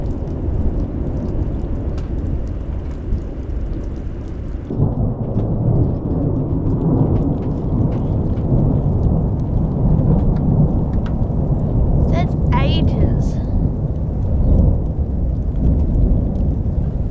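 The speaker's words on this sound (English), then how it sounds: "we were woken to the loud sounds of thunder" Heavy storm in a New Zealand rainforest, with loud thunder rolling continuously through steady rain, a sustained low rumble that shifts partway through and holds at a strong, even level.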